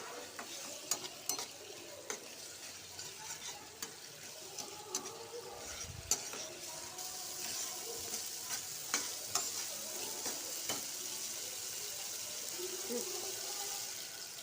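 Papad filling with sour yogurt stirred in a hot pan: a steady close sizzle with repeated soft scraping and clicking strokes of a spoon, fading to a continuous frying hiss, with light talk early on.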